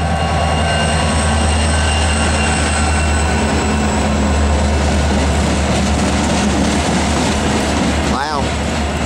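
A Norfolk Southern P60 train running light behind three SD40 locomotives rolls past on the Piedmont Division S Line in the Asheville District. Its loud, steady engine drone and rail rumble carry throughout, with a brief wheel squeal near the end.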